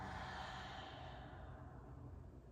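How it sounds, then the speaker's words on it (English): A deep, slow exhale through an open mouth during a trauma-informed yoga breathing exercise, a close, soft breathy rush that fades gradually over a couple of seconds, with no talking. "Open mouth, exhale."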